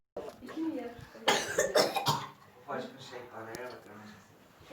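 A child coughs in a few rough bursts near the start, with talking around and after the coughs.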